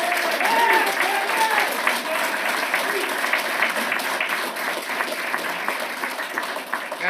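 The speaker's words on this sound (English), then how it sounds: "That means those applause mean absolutely nothing." Sustained applause from an audience at a council meeting, dense and steady clapping that fades slightly toward the end, with voices faintly underneath.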